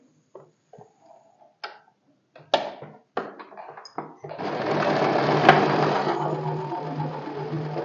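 A sewing machine stitches the front seam of a salwar, starting with a few separate clicks and short bursts before settling into a continuous, close, steady whirring run.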